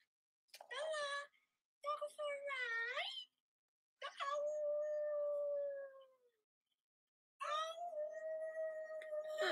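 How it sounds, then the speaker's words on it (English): Dogs howl in long, rising and wavering wails, several separate bouts with pauses of silence between them, close and clear with no talking over them. "We howled and her dogs howled"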